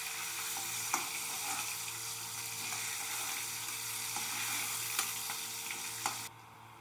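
Oil sizzling and crackling in a frying pan, a steady close hiss with scattered pops and light stirring throughout, cutting off slightly at the end.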